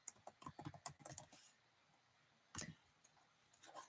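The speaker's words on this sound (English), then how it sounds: "I'm struggling to type with these nails." Fingers with long nails tapping out bursts of keystrokes on a computer keyboard, quick clicky runs then a pause and a few more taps, close and fairly quiet.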